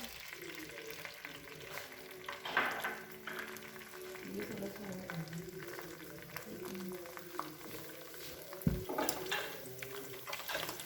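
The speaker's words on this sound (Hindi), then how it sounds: "ऑयल गर्म हो गया, अब इसमें अंडे डालेंगे।" Eggs frying in hot oil in a kadhai for egg fried rice, a steady sizzle and crackle with occasional stirring clatter, while a voice talks over the cooking.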